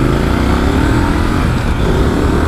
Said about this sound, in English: the sound of the exhaust on this is absolutely cracking